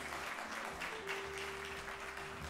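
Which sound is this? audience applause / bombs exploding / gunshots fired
audience applause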